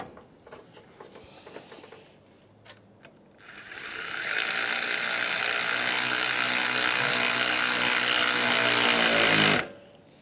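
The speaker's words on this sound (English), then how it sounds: "now we're just going to line up our hose clamp, tighten it back down." A ratchet tightens a radiator hose clamp on a 2007-2013 Acura MDX. A few sparse clicks are followed by a loud, continuous buzzing whir of about six seconds that cuts off sharply.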